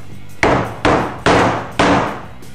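A hammer drives a socket to seat a fork oil seal on a Honda PS125 scooter. Four sharp metallic blows land at an even pace, loud and close, and each one rings out briefly before the next strike.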